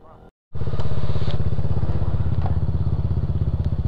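A motorcycle climbs a rough, uneven dirt road toward a hilltop view deck in San Jose, Tarlac, Philippines, its engine loud and close with a steady pulsing throb and rattling jolts throughout after a brief quiet gap at the start.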